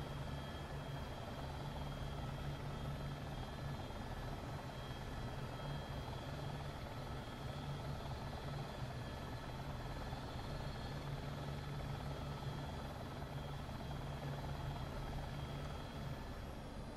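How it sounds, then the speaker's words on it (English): A Dreamfoil Creations helicopter flying in the X-Plane 11 simulator, a constant dense rotor and turbine drone with a steady low hum, unbroken and without talk. "This is a fantastic helicopter from Dreamfoil Creations."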